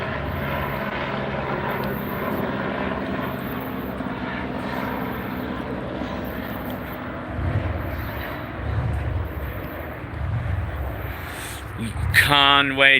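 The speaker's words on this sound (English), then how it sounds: "There's a helicopter up there." A helicopter passes overhead, a low rotor drone with periodic thumping pulses that swells toward the end, while someone talks intermittently nearby.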